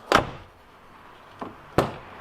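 A Subaru SVX door, fitted with in-progress bumper and side skirt work, opens and shuts in a quiet garage: a sharp slam, then a softer catch and a second firm close, close by and alone.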